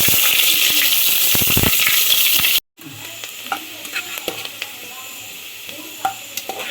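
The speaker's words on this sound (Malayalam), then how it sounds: "നമ്മൾ ഉള്ളി ഒന്ന് വറുത്ത് കോരുന്നത്" Onions frying in a mix of ghee and dalda for biryani, a loud steady sizzle with stirring scrapes, then a brief cut and a quieter sizzle with small crackles.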